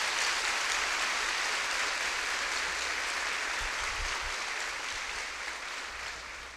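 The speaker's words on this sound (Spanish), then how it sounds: "Aplauso para el Papa Francisco." A church congregation claps for Pope Francis at a lay Catholic gathering, a broad, even sheet of applause that sounds somewhat distant and fades slightly over about six seconds.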